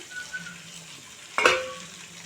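Broad beans and softened tomatoes cook in a pan for a fish curry, giving a low steady sizzle; one loud metallic clink of a utensil against the pan stands out partway through.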